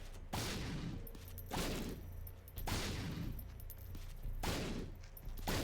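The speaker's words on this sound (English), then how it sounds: "Throw down a few bombs here" Bombs exploding in The Binding of Isaac Afterbirth+, four heavy booming blasts spaced about a second apart, each a loud broad burst that decays before the next.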